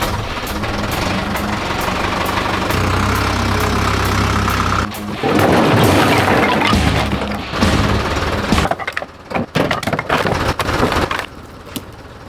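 A farm tractor engine runs steadily at idle, a low continuous rumble with knocking texture, joined midway by louder clattering and rough mechanical noise before settling back.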